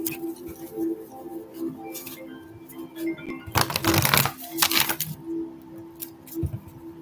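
Tarot cards being shuffled in quick riffling bursts, a loud flurry in the middle and softer handling before and after, with no voices.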